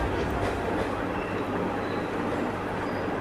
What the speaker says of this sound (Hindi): जब उठे तो train Nashik road railway station पहुंच रही थी